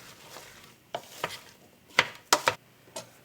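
A spoon stirs a coating into apples in a pan, giving a few scattered scraping and clinking strokes, close and fairly quiet, with no talk.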